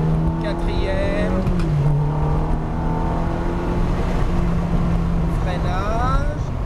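Ferrari F430 engine on a track driving course at Trappes, a loud close roar that holds a steady tone, dips and climbs again with rising revs near the end, heard from inside the car with a voice talking over it.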